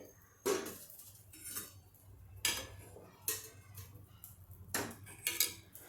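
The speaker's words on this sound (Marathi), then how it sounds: "आधी ही कढई उचलून घेते" An iron kadhai is lifted off a gas stove during semolina sev making, giving several sharp metallic clinks and knocks at close range over a quiet background.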